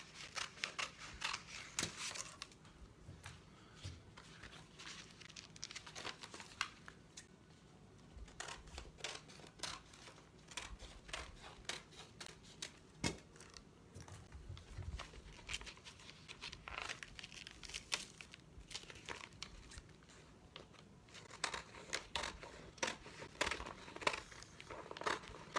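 Scissors snip repeatedly through a Prima ReDesign transfer sheet being trimmed for an upcycled kitchen cabinet door, with crisp cuts and crinkling of the sheet in an irregular rhythm, close and moderately quiet with no talking.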